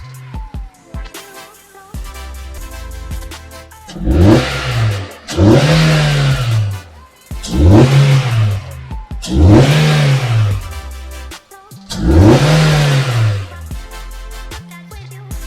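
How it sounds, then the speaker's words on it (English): A 2019-2025 Nissan Altima 2.5L engine with a performance intake revs hard five times in a row, each surge rising and falling with a deep, raspy intake roar, idling between pulls. "Now we're gonna rev it a little bit."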